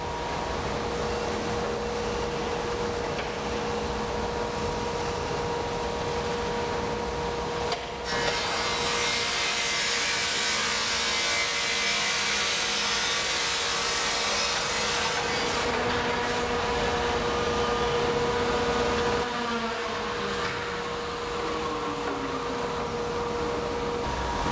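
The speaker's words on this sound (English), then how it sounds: "This is where our sawyer cuts all the lineals to size for each individual window." A saw cuts wooden window lineals to size in a window-making workshop, with a loud grinding cutting burst rising over a steady machine hum, then fading back to the hum, and a shorter burst later.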